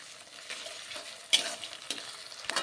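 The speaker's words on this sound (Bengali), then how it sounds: "দিয়ে ভালো করে মশলাটা কষিয়ে নিতে হবে" Tomato and chilli spice paste sautéing for a Bengali cabbage and fish-head chorchori, with a soft steady sizzle and occasional stirring scrapes of a spatula against the pan.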